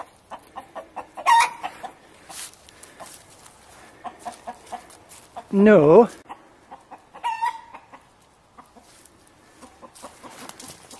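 Chickens near a house cluck in short bursts nearby, with one louder squawking call standing out midway, and a brief spoken word over the flock.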